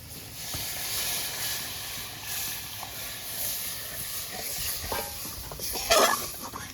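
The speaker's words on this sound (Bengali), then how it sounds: "মশলা কষানোর মধ্যে আমি নারকেল দুধটা ঢেলে দিচ্ছি" Coconut milk is poured into sizzling fried masala for a prawn malai curry, giving a steady soft hiss with light stirring and a brief louder scrape and clatter near the end.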